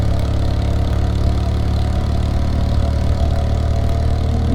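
A Yamaha XS650 motorcycle engine idles steadily, a deep, even rumble that stays close and constant throughout without any revving.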